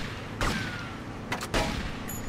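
Several short, sharp bursts of gunfire ring out in the video game Grand Theft Auto: Vice City on PC, spaced irregularly over a constant engine rumble from a driven vehicle.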